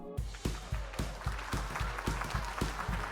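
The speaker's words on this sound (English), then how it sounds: "As the last notes faded away, applause erupted from the crowd, filling the room with a thunderous sound that echoed off the walls" Applause from a gathered crowd after a public piano performance, arriving as a dense, continuous patter of many hands clapping with repeated rhythmic swells, fairly close and filling the space.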